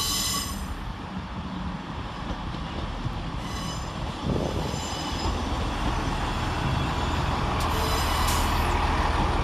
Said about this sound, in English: Arriving into platform 2 is 158837, working the 11:36 Transport for Wales service from Holyhead to Birmingham International